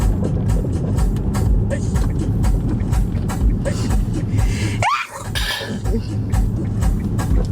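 A single sharp sneeze inside a car stopped at a red light, sounding abruptly midway over a steady low engine and road rumble with faint voice sounds around it.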